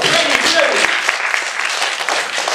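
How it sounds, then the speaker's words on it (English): An audience gives a round of applause at a weird-weekend talk, dense steady clapping of many hands filling the room throughout, with a little voice mixed in underneath. "Give her a clap."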